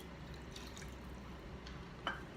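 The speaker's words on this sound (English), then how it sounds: "Now, I grabbed another cup of water. I'm going to put that down over the mushrooms." A cup of water poured over mushrooms in a home kitchen while making cabbage rolls; a soft, steady liquid trickle and drip runs through the short stretch, faint and close, with one brief splash near the end and no talking.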